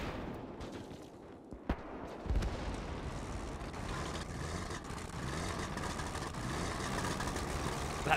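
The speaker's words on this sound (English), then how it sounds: "That engine." Low rumbling engine of a military vehicle in the Gates of Hell battlefield game, a steady drone building through the clip amid distant gunfire and battle noise.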